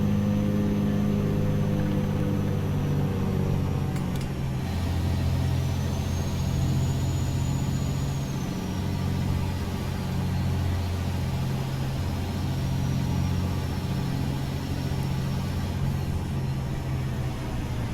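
Engine brake (Jake brake) on a wrecker truck in American Truck Simulator: a steady, throaty low engine drone with harmonic rumble, held continuously at moderate level with slight pitch shifts.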